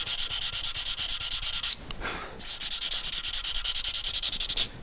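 Hand sanding on a PRS-style guitar body, a steady run of close, rhythmic back-and-forth rubbing strokes with a brief pause midway before the scraping resumes.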